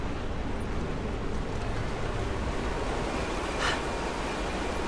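Water far below in Rise of the Tomb Raider gives a steady broad rushing wash like surf or wind, constant and fairly loud throughout, with no voices.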